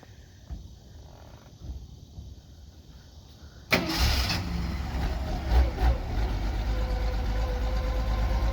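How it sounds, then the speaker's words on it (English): A quiet stretch with faint clinks, then a 1964 Mercury Comet's engine cranks and catches with a sudden burst, settling into a loud, steady idle. "we got the car running"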